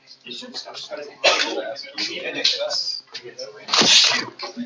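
A single sharp sneeze bursts out near the end, amid ongoing talk from nearby voices.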